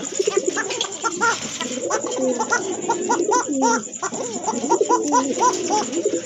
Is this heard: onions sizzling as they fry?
no